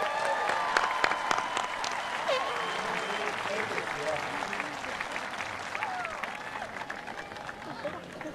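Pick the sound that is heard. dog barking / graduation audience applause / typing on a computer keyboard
graduation audience applause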